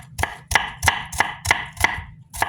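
Knife dicing onions on a cutting board: a steady series of about seven sharp, evenly spaced chops, close and clear, without talk.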